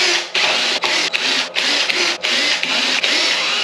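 A power driver backing screws out of a Hurtle scooter panel, a loud close whirring buzz in several bursts with short breaks between screws, and no speech.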